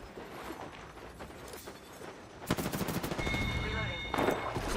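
Video game gunfire comes first as scattered faint shots, then a loud burst of rapid automatic fire with dense repeated cracks, close and continuous to the end.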